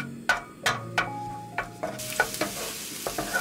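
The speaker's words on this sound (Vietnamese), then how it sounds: "Cho hết hành tỏi băm vào phi lên." Minced shallots and garlic frying in a spoonful of oil in a pan, soft sizzling under a series of clattering stirring scrapes spaced about every half second, fairly quiet and close.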